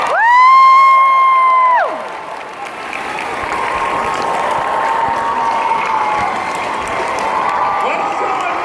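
Convention crowd at a San Diego Comic Con panel breaks into applause and cheers, a loud sustained roar of clapping and whoops in a large hall that settles into a steady, softer clapping wash.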